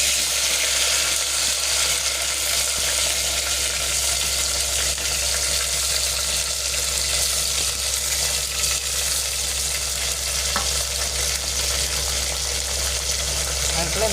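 Onion and tomato fry in hot oil for a fish curry, a constant, even hiss of sizzling that holds steady throughout, with faint clatter now and then.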